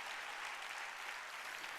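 A congregation claps throughout a Korean church sermon, a dense, steady burst of many hands heard somewhat distant and soft, with no distinct voices.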